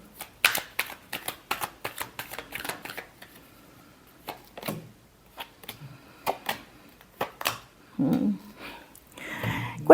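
Tarot cards being shuffled make a rapid, close riffling patter for about three seconds, then sparser flicks and slides of the deck, fairly quiet, with no voice heard.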